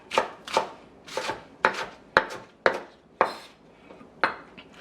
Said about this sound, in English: Just give the onion a rough chop. Same thing for the scallions.